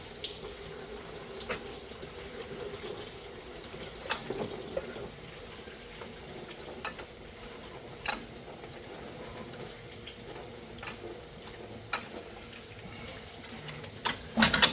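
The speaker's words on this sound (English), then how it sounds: "Sounds like it's pouring directly on the floor." Continuous splashing of dirty water from a rusty engine's cooling system pouring onto a hard floor, steady and moderately loud, with a few clunks near the end.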